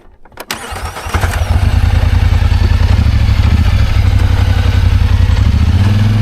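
A Highlifter-converted off-road vehicle, fitted with new front axles, fires up after a brief crank and settles into a loud, steady, close engine roar that builds and holds with revving throughout.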